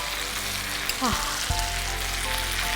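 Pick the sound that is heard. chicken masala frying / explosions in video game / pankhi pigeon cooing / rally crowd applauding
chicken masala frying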